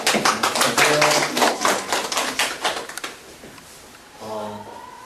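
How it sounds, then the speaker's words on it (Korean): Audience applause at a high school admissions information session in a Korean academy, loud clapping fading out over about three seconds, followed by a speaker's voice. "박수 한번 부탁드립니다."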